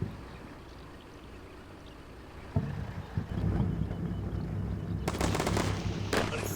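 Gunfire in the NATO campaign of the video game Combat Mission Shock Force: after a low background rumble with a few distant thumps, sharp automatic bursts crackle out in two loud volleys toward the end.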